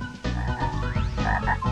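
A frog croaks repeatedly in the video game Glover, loud steady croaking over game music with no voices.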